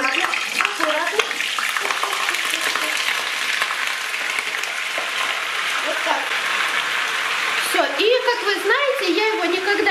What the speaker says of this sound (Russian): картофель, я думаю, уже можно отправлять, потому что масло нагрелось